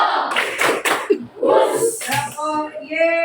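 A classroom of students claps hands together during a call-and-response rhythm game, with a few sharp claps mixed in among voices near the start.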